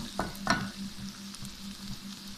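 Khageena, a spiced egg dish, frying in oil in a pan gives a faint, steady sizzle, with a couple of soft utensil scrapes near the start and no speech.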